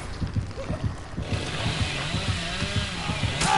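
A chainsaw wielded by the killer in the video game Dead by Daylight revs in a steady pulsing rhythm, loud and continuous, with a rising whine toward the end.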